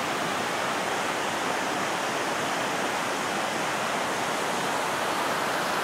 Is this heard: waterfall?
yes